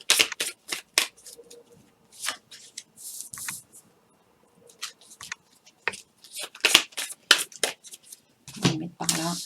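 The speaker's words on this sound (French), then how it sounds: "je vais tirer plusieurs cartes" Tarot cards being shuffled by hand before a reading, a run of quick crisp riffling bursts and soft slaps close by, with short pauses between them.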